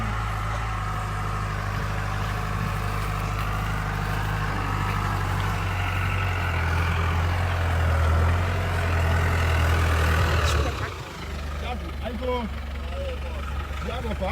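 A tractor engine preparing farm land on a pineapple farm in Ghana: a steady heavy idling drone runs through most of the stretch, then drops off abruptly near the end, with voices and outdoor noise following.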